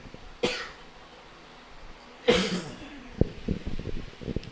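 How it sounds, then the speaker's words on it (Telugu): Two sharp, harsh coughs from one nearby person during a church service, spaced about two seconds apart, followed by faint murmuring voices and light clatter. "నన్ను ఈ దగ్గు వెంటాడుతుంది"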